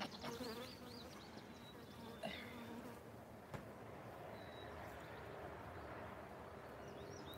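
A steady, dense buzzing of honey bees in the top box of a hive fills the clip throughout, close and continuous, with a few brief knocks and faint higher chirps over it.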